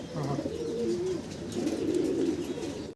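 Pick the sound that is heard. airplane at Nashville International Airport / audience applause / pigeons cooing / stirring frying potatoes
pigeons cooing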